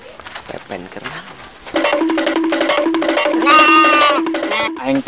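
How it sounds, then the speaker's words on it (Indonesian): A small Garut sheep bleats loudly and close by, a drawn-out wavering cry that follows a stretch of steady, buzzy sound, with people talking at the start. "Aing teh meuli teh domba Garut jadina leutik"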